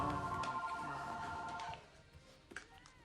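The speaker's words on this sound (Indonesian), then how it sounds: "terdengar suara telepon yang membuat mereka langsung menghentikan aktivitas" A telephone rings in a film scene, a steady electronic ring with harmonic tones that holds for nearly two seconds, then cuts off, leaving quiet room tone and a few faint movements.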